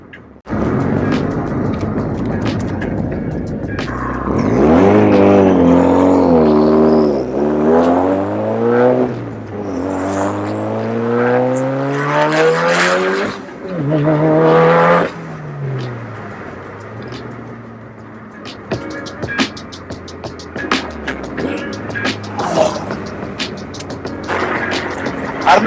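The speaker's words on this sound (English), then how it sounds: "I don't know how much you guys can actually hear from the exhaust or from the engine bay or anything like that" Car engine and exhaust while driving, rising and falling through several revving accelerations and gear changes, steady and close, followed by a quieter cruising drone with light ticking.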